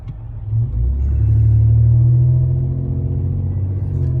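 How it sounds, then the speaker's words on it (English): A car on a commute drones with a loud, low engine rumble that swells after a moment and then holds steady as a deep, continuous hum with no speech. "It's this part of my commute where the car always does this"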